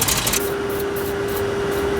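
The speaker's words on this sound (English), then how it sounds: "I'm actually going to try spraying some PB Blaster or something on there first" Short spray bursts of PB Blaster penetrating oil aimed at fairly new nuts on an old Rolls-Royce, a close hiss repeated in quick pulses over a steady background hum.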